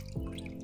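Water poured over a golden retriever puppy during its first bath, a short close splash and trickle lasting under a second.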